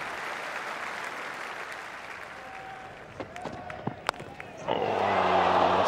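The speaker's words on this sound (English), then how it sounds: "there's a lot of oohs and ahs from the crowd" Cricket crowd at Trent Bridge during an Ashes Test, with a distant steady murmur and scattered claps that swell at the end into loud, sustained applause and rising oohs.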